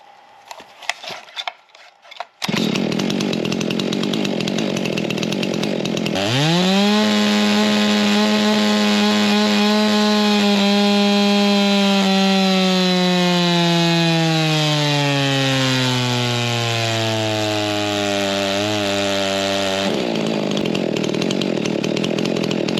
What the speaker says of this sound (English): So we'll get it put on the dyno, see what kind of power it makes.